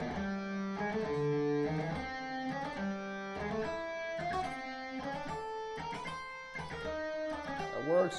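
Guitar picking exercise on single notes in a G Aeolian scale, played in a repeating long-short-short rhythm at a steady, moderately loud level, close up and without speech.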